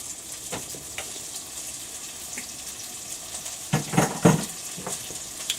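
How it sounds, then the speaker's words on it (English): Beef stir fry frying in a home pan without a wok, a soft steady sizzle with a few louder clattering stirs and scrapes near the end, no talk. "we just basically want to fry this up real quick"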